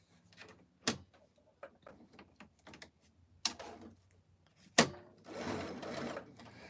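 A home sewing machine stitches down a Christmas tea towel, with a few sharp clunks and clicks spaced apart, then a softer whirring burst of stitching near the end, all fairly quiet.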